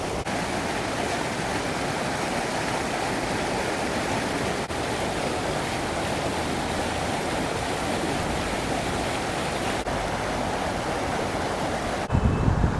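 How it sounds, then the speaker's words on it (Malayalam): A small waterfall splashes at a bathing spot, giving an even, broadband rush of falling water that holds steady and close. Near the end there is a brief louder bump. "ചെറിയ വെള്ളച്ചാട്ടം ഉണ്ടല്ലേ"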